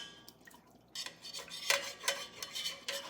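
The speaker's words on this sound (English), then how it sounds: "What I'm trying to do here, get it kind of really deglazed." A utensil scrapes and stirs across the bottom of a Le Creuset Dutch oven to deglaze a pot roast, making repeated close, fairly quiet scraping strokes with light sizzle and clinks.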